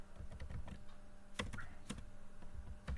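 Text is typed on a computer keyboard into a spreadsheet cell, producing a quick, irregular run of close key clicks with a couple of sharper, louder taps.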